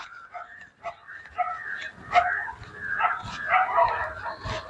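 Several dogs bark and yip in an outdoor area of an abandoned military camp in Jaffna, a string of close, loud, overlapping barks and whimpering yelps with no talk.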